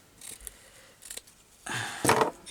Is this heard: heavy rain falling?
no